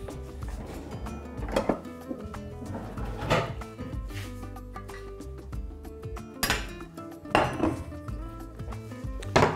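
A metal utensil stirs ingredients for a fish soup in a pot, producing irregular clanks, scrapes and clinks that come in uneven bursts throughout, close and fairly loud.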